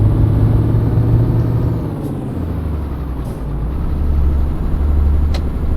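A MAN truck's diesel engine in Euro Truck Simulator 2, a steady low rumble that dips and rises in pitch as gears change, with a faint high whine above and a couple of brief hiss bursts.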